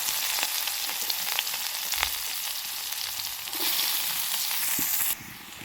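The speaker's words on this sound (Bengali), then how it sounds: "পেঁয়াজটা কিন্তু আমার হালকা করে ভাজা হয়ে গেছে" Chopped onion fries in leftover mustard oil with chili and five-spice seeds, giving a continuous bright hiss of sizzling with faint crackles, close up and without speech.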